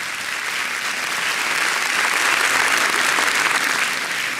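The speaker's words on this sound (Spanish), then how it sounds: "Dale un aplauso al Señor." Steady, dense applause from a church congregation at a pastor's sermon, a continuous wash of many hands clapping at fairly loud level with no speech over it.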